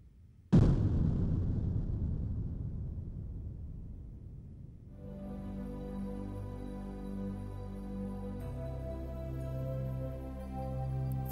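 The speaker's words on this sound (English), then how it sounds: "Got external tank separation." Space shuttle external tank separation in Kerbal Space Program: a sudden loud burst that decays into a long, fading rumble, followed by a steady tonal hum with layered drones.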